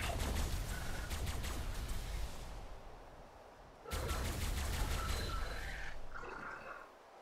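Dense rapid bursts of tech rifle fire from the video game Ark Survival Evolved come in two sustained loud volleys, with a brief lull between them.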